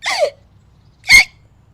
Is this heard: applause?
no